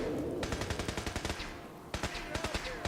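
Rapid automatic gunfire from the video game Fallout 4 with the Sim Settlements 2 mod, two dense bursts of sharp repeated shots separated by a short pause, loud and close over a steady background rumble.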